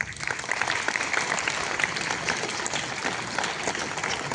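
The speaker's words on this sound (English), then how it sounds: "Let's show our gratitude with a rounding applause." Sustained applause from a school assembly audience at a thanksgiving day gathering, dense steady clapping filling the hall throughout without speech.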